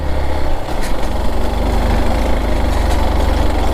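A scooter engine labours while riding off-road up a hill over stones and dirt, producing a continuous loud, rough low drone close to the listener with no speech.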